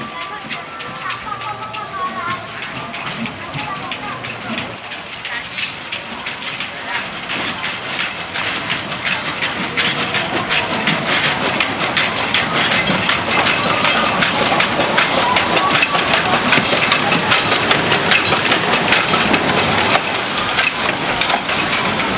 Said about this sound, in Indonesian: lokomotif uap B25-nya juga berjalan menarik kereta wisata ke jalur bergigi di Bedono